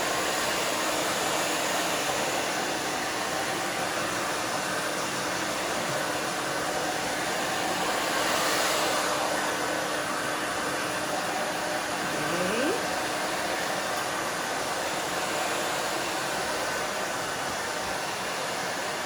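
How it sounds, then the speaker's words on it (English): A hair dryer blows steadily with a loud, even whoosh of air that continues without a break from start to finish. "I'm just moving my hands back and forth, the blow dryer back and forth"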